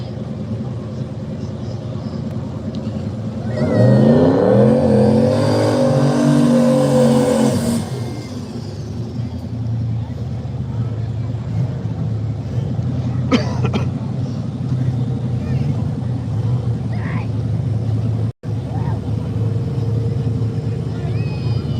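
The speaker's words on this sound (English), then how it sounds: "Englert in the MR2, Richard in the Mustang." Toyota MR2 and Ford Mustang launching at an arm drop drag race, a loud engine roar that rises and sweeps past in the first half, followed by a steady crowd rumble and distant engine noise.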